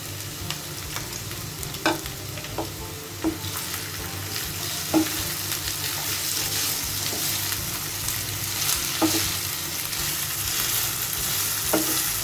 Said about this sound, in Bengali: পেঁয়াজ ভাজার এ পর্যায়ে আমি ঝিরি করে কেটে রাখা আলুগুলো দিয়ে দিচ্ছি।